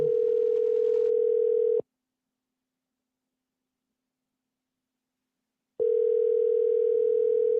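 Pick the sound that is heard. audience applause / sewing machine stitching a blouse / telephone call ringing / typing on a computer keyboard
telephone call ringing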